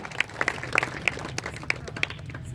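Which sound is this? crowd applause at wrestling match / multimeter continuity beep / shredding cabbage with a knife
crowd applause at wrestling match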